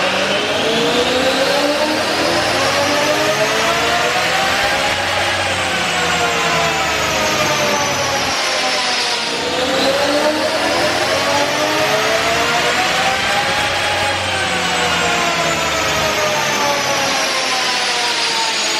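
Supercharged BMW E92 M3 engine on a dyno, loud and close, climbing steadily in two long full-throttle pulls with a short drop between them, running on 93 octane fuel, with no talk.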